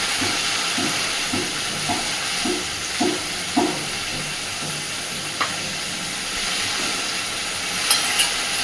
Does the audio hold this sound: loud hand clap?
no